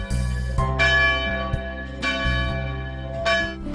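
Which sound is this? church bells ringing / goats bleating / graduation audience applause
church bells ringing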